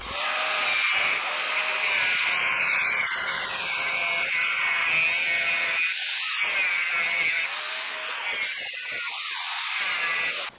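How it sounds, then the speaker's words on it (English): Angle grinder cutting into a seized rear wheel bearing on a Peugeot 407, a steady loud whine that runs almost without a break and dips briefly as the disc shifts in the cut. "a bit more access just to get in there with our grinder"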